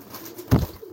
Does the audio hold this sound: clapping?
no